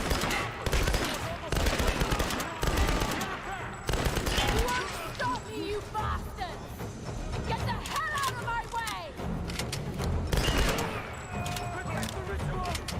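Rapid gunfire bursts from the Tomb Raider video game, dense volleys and scattered shots that run almost continuously over busy game sounds, with voices present.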